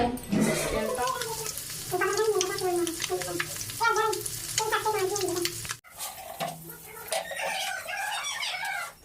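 Food sizzles and fries steadily in a pan at home, a continuous crackle running throughout, with a rooster crowing and people talking over it.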